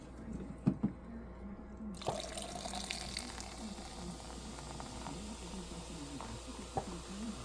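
A drink poured over homemade ice cubes in a camping setting gives a continuous liquid pour and fizz, close up, after a couple of brief clinks at the start.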